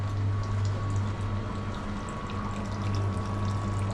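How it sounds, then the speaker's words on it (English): Garden water feature in Calvinia, a drought-hit Hantam town, giving off a steady, continuous splash and trickle at moderate distance, with a low hum underneath and no talk. "Water feature."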